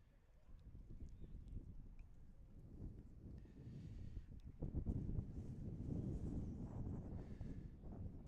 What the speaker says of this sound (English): we got some winds gusting through here at Warren Field